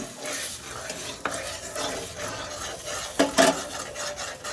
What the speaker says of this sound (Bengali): এদিকে আমি ডিম ভাজছি।